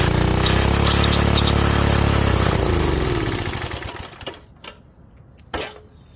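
A curbside-found garden tiller's small engine fires up and runs with a loud, rapid mechanical clatter, then sputters and winds down to silence, leaving a few scattered clicks and knocks afterward.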